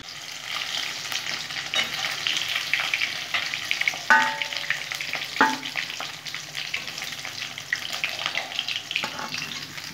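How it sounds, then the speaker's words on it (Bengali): Pomfret fish frying in a pan, giving a continuous loud sizzle with bursts of crackling and a couple of brief metallic clinks from a spatula, with no speech. "এইভাবে আমি সব মাছগুলো ভেজে নেব।"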